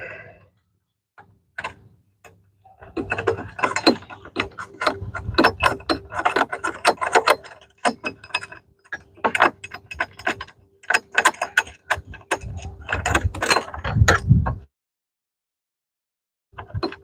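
Ratchet wrench loosening bolts on a solar panel mount for a garden shed, heard as bursts of quick clicking ratchet pawl ticks with pauses between, close and fairly loud, ending in silence.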